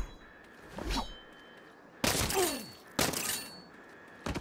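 Incoming gunfire in the game Saints Row: three loud separate bursts of shots with ringing, clanging impacts, spaced about a second apart, with quieter game ambience between them.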